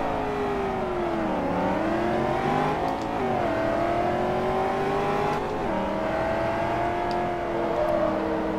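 Corvette racing engine in Forza Motorsport 3 held at high revs, droning steadily and close, with pitch dips and climbs at each gear change through the whole stretch.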